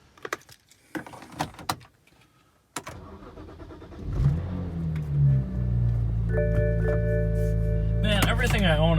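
A BMW E46 M3 engine with an SMG transmission starts and settles into a steady, loud rumble with a rising whine, after a few clicks and jingles; a voice speaks briefly near the start.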